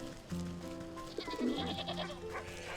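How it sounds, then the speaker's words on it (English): Sheep bleating in the video game Wytchwood, a few short bleats layered over a soft game background tune, fairly quiet, with no talking. "Oh, look at the sheep are having a grand time."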